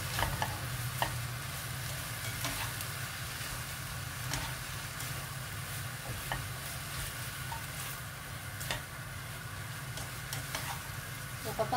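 Fried egg and luncheon meat being stir-fried and mixed in a pan for fried instant noodles, a steady close sizzle with irregular scraping stirs throughout, no talking.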